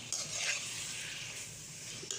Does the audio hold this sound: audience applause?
no